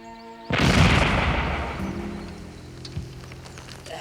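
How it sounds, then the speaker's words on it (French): A sudden loud blast from an animated Lucky Luke cartoon erupts after a moment of quiet, then rumbles and fades slowly, with a smaller thud near the end. "Vous avez entendu l'explosion."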